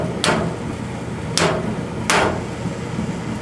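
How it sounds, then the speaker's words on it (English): Three sharp metallic taps on a Maytag Whirlpool gas dryer's gas valve solenoid ring out at uneven intervals over a steady low hum of gas coming on, close and fairly loud, with no one speaking. "I hit it and I hear the gas come on, and I hit it again and the gas goes off."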